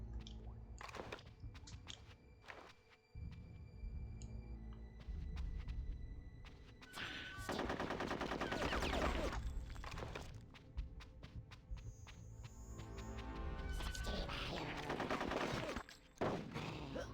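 Bursts of gunfire in Conker's Bad Fur Day, sharp repeated shots and rapid automatic volleys crackling loudly in irregular clusters, with footsteps and game effects between the salvos.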